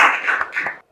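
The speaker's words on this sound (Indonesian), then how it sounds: "Oke, baru tepuk tangan dulu." Students in an Indonesian school classroom clap their hands together in a short, brisk burst of close applause lasting under a second, with no talk over it.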